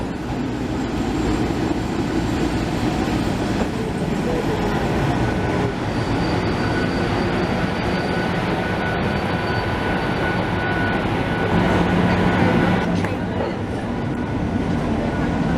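A loud, continuous rumble of a train rolling into a station in Vienna close by, steady throughout with faint metallic squeals and rattling wheels.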